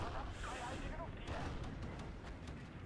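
Artillery piece destroyed in Steel Division 2, a WWII strategy game: dense rumbling explosion noise with sharp crackling bursts near 1.3 and 2 seconds, sustained loud throughout, with voices talking over it.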